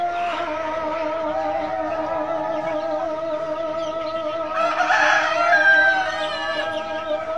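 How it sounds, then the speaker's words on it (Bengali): Chickens on a poultry farm housing about 3000 birds on one side, with a rooster crowing over steady, continuous clucking and flock chatter, loudest near the end. "এখানে 3000, আমাদের এই সাইডে 3000 মুরগি।"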